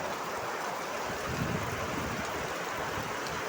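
Heavy rain pours steadily in Kongu Patti near Omalur, Salem district, a dense continuous hiss and wash holding at an even loud level throughout with no voices.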